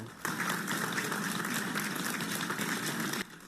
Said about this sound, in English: When the Taiwan rescue team came out of the gate, they were met with applause